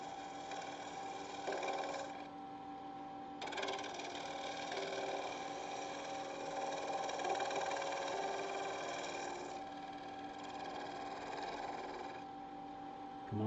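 A wood lathe turns a piece of recycled plastic while a 3/8 inch spindle gouge takes light cuts. The tone is a steady, close whirring hum with a faint grinding texture, running continuously throughout.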